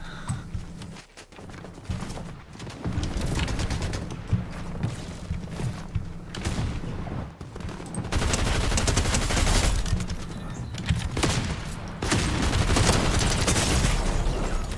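Rapid automatic gunfire from a video game played on a new PCSpecialist Flux 300 gaming PC, with dense bursts and booming shots loud and continuous throughout.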